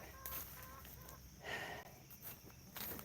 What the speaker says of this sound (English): This chicken needs help.